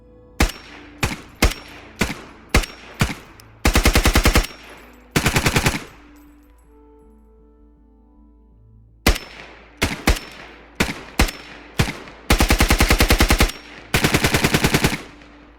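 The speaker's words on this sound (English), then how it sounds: "The G3 has had its sound updated again." G3 battle rifle fire in the game Squad, heard up close: several sharp single shots in rhythm, then loud sustained automatic bursts, then further single shots and two more long bursts, each with a short reverberant tail.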